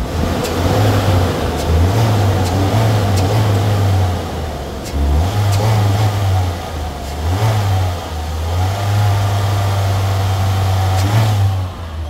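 A 2.3-liter 16-valve car engine runs steadily close by, its low hum rising and falling through several light revs and then easing back to idle, with no talking.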